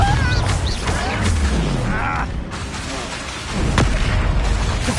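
A Confringo explosive spell bursts in the Hogwarts video game, several booming blasts and crashes over dense battle noise, with a loud impact near the end.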